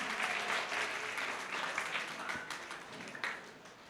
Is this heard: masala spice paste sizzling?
no